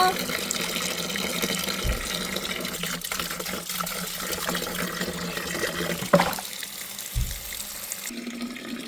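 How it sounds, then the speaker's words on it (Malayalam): Spinach leaves being washed in water at a sink, with a steady stream of running and splashing water throughout and a couple of brief louder knocks near the end. "ഞാൻ ചീര ഒന്ന് നല്ല വൃത്തിക്കൊന്ന് കഴുകി"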